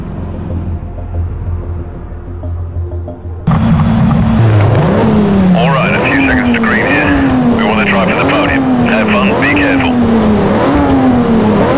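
A BMW 135i race car in the Need for Speed Shift racing game idles quietly, then bursts into a loud, close engine roar that climbs through several rising revs and gear shifts.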